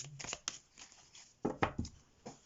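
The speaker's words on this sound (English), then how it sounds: "One more shuffle, I feel." Soft, quick riffling and snapping of tarot cards being shuffled, in a few irregular bursts, close and quiet.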